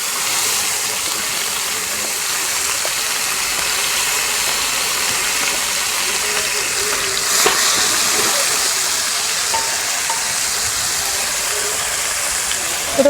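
Jackfruit seeds and curry leaves are stir-fried in a pan for a homestyle kootan with raw banana, a constant close sizzle with occasional scrapes and stirs throughout.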